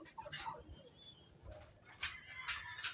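Breeder pigeons coo softly in a section of their loft, with a few low coos and light rustling and flutters in a quiet space.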